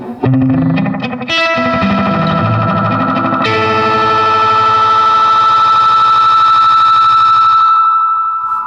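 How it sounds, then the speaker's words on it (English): An Ibanez AD-80 analog delay pedal self-oscillates into a warbling electronic tone, repeats building and smearing into a loud, sustained ringing drone. "This pedal will self-oscillate. We'll get some weird sounds here in a moment."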